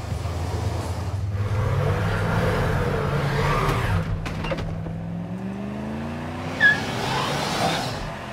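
Several cars driving through steep, narrow cobbled streets in Edinburgh's city centre, engines rumbling steadily and loud up close, with a sharp brief tire or brake noise near the end.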